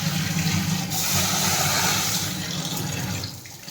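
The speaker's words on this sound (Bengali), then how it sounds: "জলটা দিয়ে ডালটা ধুয়ে নিই।" Water poured steadily over mung dal to rinse it, a continuous splashing gush at moderate level running for a few seconds before tapering off, with no talk.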